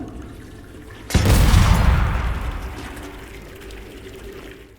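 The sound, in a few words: toilet exploding after being filled with items, from a video game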